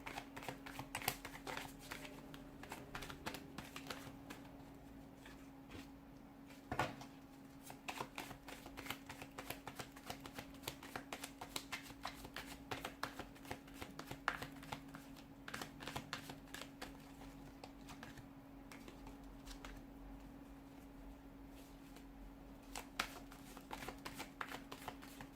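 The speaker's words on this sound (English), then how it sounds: "I'm going to pull out a fresh set of cards for you just because" Tarot cards pulled from a deck and shuffled, a fast run of soft flicking riffles and slaps close by over a quiet steady hum.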